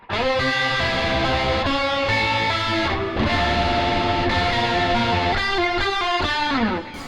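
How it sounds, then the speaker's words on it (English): Electric guitar played through a Mooer GE150Max multi-effects unit with drive, rotary, delay and reverb. Distorted chords ring out continuously, with swirling modulation and echoing tails, brief stops between phrases and a final fade. "this time it has a rotary on, it has a delay on, and has a reverb on"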